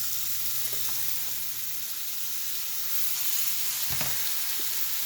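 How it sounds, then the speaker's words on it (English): Beef patties sizzle steadily in a frying pan, a loud even crackle with a few soft clinks of a utensil, no voices. "you are going to place your patties in the pan"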